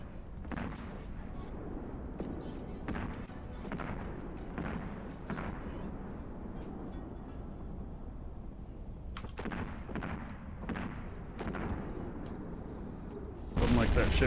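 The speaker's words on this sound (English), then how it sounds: "I wonder why that one explosion was so loud compared to the others." Spaceship explosions in the online space game EVE Online boom repeatedly across the clip as thuds and blasts over a steady game background, with a much louder burst near the end.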